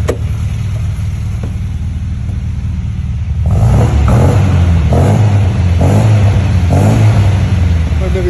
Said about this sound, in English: You can hear it popping. It's a lovely exhaust note. We'll give it a rev.